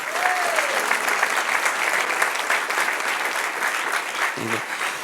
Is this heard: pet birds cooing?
no